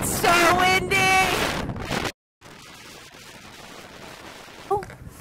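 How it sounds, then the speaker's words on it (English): Gusty wind buffets the microphone, loud at first with brief tonal sounds, then a sudden cut and a quieter, steady windy rush. "It's so windy!"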